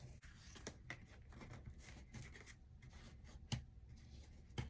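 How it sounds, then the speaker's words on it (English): A bone folder pressed and rubbed along paper creases on a crayon-box junk journal: soft close scraping and rubbing strokes with a few sharper taps, quiet and continuous. "I'm using my bone folder to kind of define those creases"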